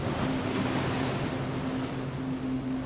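Ocean waves surge into Thor's Well, a sinkhole carved into the jagged coastal cliffs of Cape Perpetua, making a steady, continuous wash of surf with a faint low hum running underneath.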